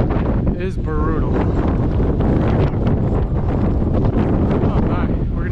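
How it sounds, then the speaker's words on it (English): Strong wind on the summit of South Twin mountain blasts straight into the microphone as a loud, constant roaring buffet, with a brief voice-like sound near the start. "wind is brutal."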